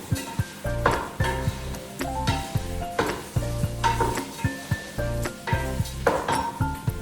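Soaked, drained rice roasted in a pan for ghee rice, with a soft sizzle under repeated scraping and clinking stir strokes from a spoon against the pan, close up and steady in rhythm.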